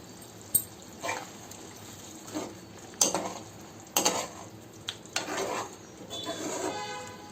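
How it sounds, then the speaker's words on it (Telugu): Paneer curry stirred in a pan after coriander goes in, with scattered clinks of a spoon against the pan and soft scraping, a faint sizzle rising toward the end. "10 నిమిషాలు ఉడికిన తర్వాత కొత్తిమీర వేసి బాగా కలుపుకొని దించేయాలి."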